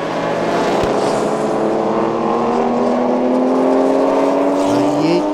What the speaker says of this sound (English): Utain, 5th position on track for GTC Supercars